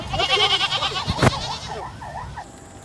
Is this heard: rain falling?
no